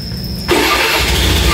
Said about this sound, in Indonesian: Ketika dipencet remote on, maka speedometer akan menyala, injeksi akan menyala, dan motor bisa dihidupkan.